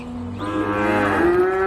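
Beef cattle on a ranch give a single loud, sustained moo, close by and alone over steady outdoor background.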